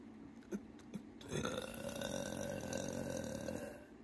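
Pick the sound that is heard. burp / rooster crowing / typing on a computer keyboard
burp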